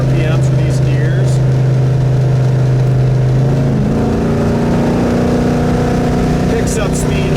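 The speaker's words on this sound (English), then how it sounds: "This thing picks up speed awesome. 75 mile an hour, 80 mile an hour down the road." A 1970 Ford Torino Cobra cruising at 75 to 80 mph around 3,000 RPM, its engine producing a loud, steady drone with a shifting tone heard from inside the car, a voice talking over it.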